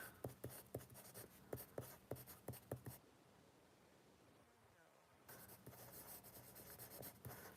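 A pencil scratches across paper in short rhythmic strokes, faint and close, then pauses before a steadier scribbling rub resumes.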